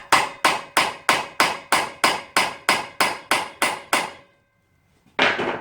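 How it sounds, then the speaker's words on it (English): Hammer striking the shaft of a rusty automotive AC compressor from a Toyota RAV4, about twelve evenly spaced metallic taps in quick rhythm, close and loud, then a pause before a final louder knock. "I reckon we can give it a little tap on the shaft"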